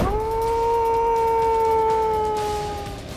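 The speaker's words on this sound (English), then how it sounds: "Dingoes." Wild dingoes let out a long, steady howl, a sustained wavering tone that holds for a few seconds before tapering off, loud over a rough, breezy outdoor background.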